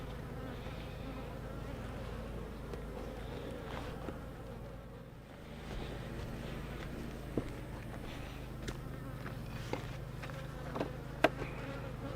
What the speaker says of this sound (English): Now I got to get the bees out of there.